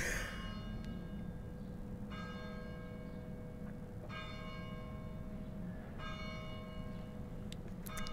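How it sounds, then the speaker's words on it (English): Church bells in the video game Getting Over It toll four times at slow, even intervals, each ring fading out over a low, steady rumble, somewhat distant and soft. "We will now jump up to the top to the church bells."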